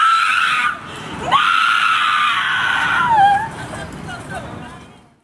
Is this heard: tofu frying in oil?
no